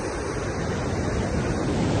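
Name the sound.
flowing river water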